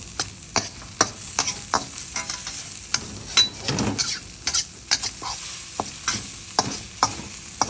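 Egg being stirred into minced pork in a hot pan, a soft sizzle under repeated scraping strokes of a utensil at an irregular rhythm, close and fairly loud.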